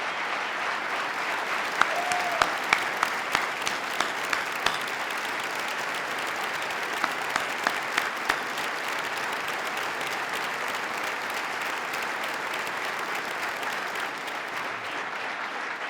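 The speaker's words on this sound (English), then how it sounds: "Let's give them a round of applause" Sustained audience applause for first responders at Governor Cuomo's 2018 agenda address, a dense, even roar of many hands clapping continuously for about sixteen seconds with a few sharper claps standing out early on, no talking over it.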